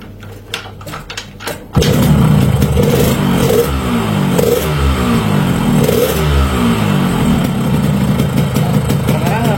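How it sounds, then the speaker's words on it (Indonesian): A motorcycle with a clutch fault and an aftermarket silencer idles and revs loudly and steadily, its engine drone with a faint whining hum running throughout after a brief quieter clattering start. "yang bikin ini motor bermasalah, kuplingnya bunyi, ada bunyi"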